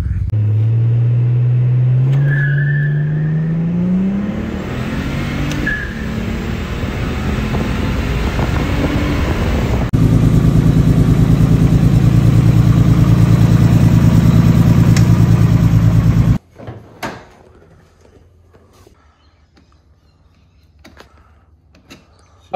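A turbocharged RB30 drift car engine revs up and cruises, with a loud rising engine note and heavy rumble plus wind noise, then cuts to a quieter stretch with scattered knocks and thumps.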